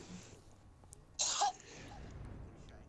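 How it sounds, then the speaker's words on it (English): A single short, sharp cough, faint against quiet background hiss. "Why am I hearing myself cough?"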